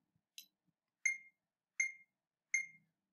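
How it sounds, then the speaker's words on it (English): Four evenly spaced electronic count-in beeps for a one-bar rhythm lead-in, crisp and isolated in silence, the first slightly higher in pitch than the other three. "you're going to hear 4 beeps"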